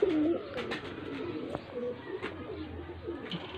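Pigeons in a Faisalabad loft coo softly amid a steady, low background murmur, with a few brief calls breaking through.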